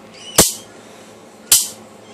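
A toy gun fires two crisp, snappy cracks about a second apart, each loud and close with a brief ringing decay, against a quiet background.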